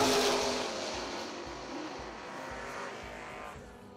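Drag race cars roaring down the strip at a race event, a loud sustained engine blast that starts strong and fades gradually as the cars pull away, no voices.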